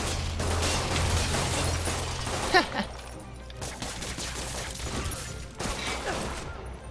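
Enemy gunfire rattles in scattered broadband bursts during a street robbery in the Spider-Man Game of the Year Edition video game, with a sharp pop near the middle and steady background game noise throughout.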